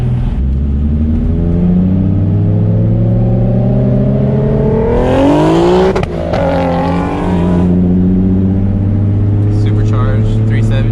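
A supercharged Nissan 370 race car engine holds a loud, steady idle drone close by, then revs sharply upward, drops back, and settles into its idle again.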